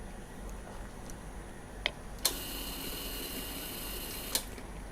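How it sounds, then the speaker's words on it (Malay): A newly replaced fuel pump runs inside the fuel tank of a Ysuku motorcycle that will not start and shows an er_1 error: a faint, steady whirring hum, with a few sharp clicks and ticks on top. "fuel pump ni dia berfungsi."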